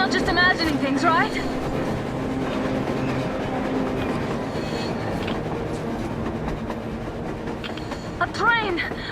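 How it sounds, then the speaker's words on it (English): A train passes on the surface in the video game Metro Exodus, rumbling and clattering steadily over the rails with metallic squeals and a horn-like tone, and voices speak over it. "A train! A damn train on the surface!"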